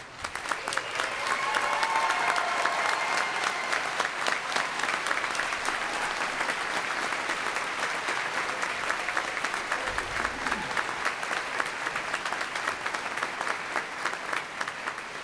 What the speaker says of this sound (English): I want you to know that that applause was completely spontaneous